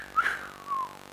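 A person's voice imitates a wolf whistle, a short rising note followed by a longer falling glide, fairly soft and heard alone without talk.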